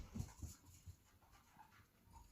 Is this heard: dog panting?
yes